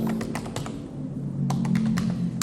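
Rapid keystrokes on a computer keyboard, clicking in quick irregular bursts at close range with a low steady hum underneath, while someone enters text for a beginner web-page coding lesson.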